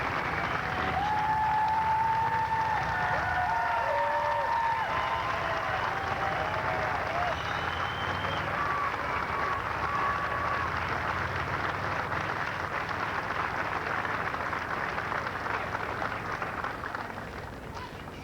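A large crowd applauds steadily at Ronald Reagan's funeral and memorial as Nancy Reagan comes forward, a long, even wash of clapping that fades slightly at the end, with faint tones above it.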